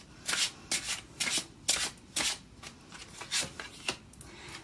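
Tarot cards being shuffled in a series of about nine quick riffling bursts, close and fairly quiet, with no talking.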